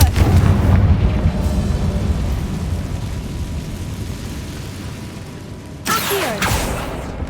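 A Confringo fire spell bursts in Hogwarts Legacy, a loud booming blast that rolls into a long rumbling decay, followed by a second sharp impact near the end.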